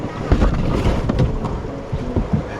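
A canoe rides through waves in class 2 river rapids on the Cahaba River, with steady rushing water and wind buffeting the microphone, punctuated by a few soft thumps and splashes as the hull bumps along.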